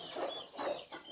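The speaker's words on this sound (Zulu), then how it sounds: "Inkukhu amathiya siyathatha sifake lapha" Farm chickens cluck in repeated bursts, close and fairly loud, with no voices over them.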